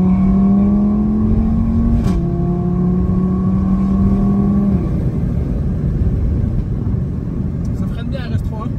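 An Audi RS3 engine drones loudly from inside the cabin, its tone dropping and fading as the car brakes and slows, with a rumbling road noise continuing underneath.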